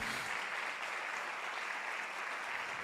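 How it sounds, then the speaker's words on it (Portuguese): A church congregation applauds steadily and evenly throughout, a dense wash of many hands clapping at moderate loudness with no speech over it. "Se você é essa pessoa, aplauda ao Senhor, em nome de Jesus"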